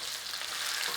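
Pork sausages browning in a big pan for a traditional Dublin coddle, a dense, even sizzle of frying fat heard close and continuous for the whole moment.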